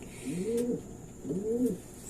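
Pigeons coo in a loft, two rolling, throaty coos spaced about a second apart, close and clear over a soft background hiss with no voices.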